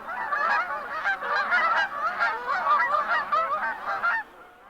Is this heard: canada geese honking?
yes